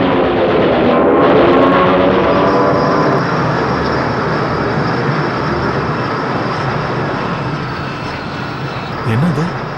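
A steady, loud drone of an airplane's engines in flight about twenty minutes before landing, heard from inside the cabin as a continuous roar under a dramatic film scene.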